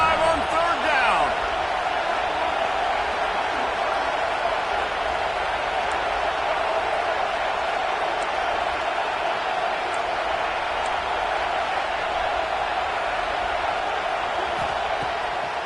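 A packed Ohio State Buckeyes stadium crowd roars on third down during a UCLA versus Ohio State game in College Football 26, a broad steady wash of cheering under a play-by-play commentator's voice.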